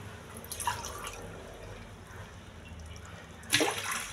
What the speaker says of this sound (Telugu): ఈ గ్లాసుతో 4 గ్లాసులు వాటర్ వేసుకోవాలి.